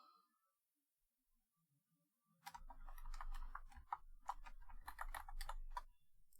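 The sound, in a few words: typing on computer keyboard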